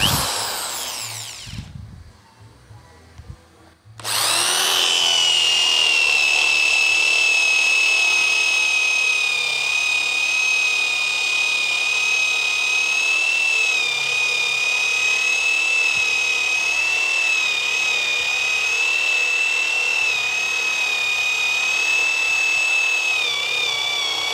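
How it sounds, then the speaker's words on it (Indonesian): A power drill fitted with a 25 mm bit whines loudly and steadily for about twenty seconds after a short burst of handling noise, its high motor pitch holding nearly constant. "Sekarang kita akan pakai mata bor yang lebih besar. Ya, ini kita pakai yang 25 mili."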